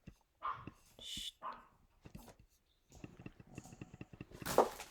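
A dog barks in a few sharp, close yips and woofs scattered across a quiet indoor room, with a louder bark near the end and some faint murmuring between.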